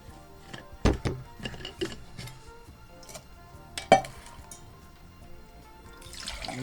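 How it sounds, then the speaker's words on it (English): Water poured into a backpacking cooking pot outdoors, heard as irregular splashes and sloshing with a few sharp knocks and clinks of the pot, ending in a brief hissy wash of flow. "let's go ahead and fill up our water"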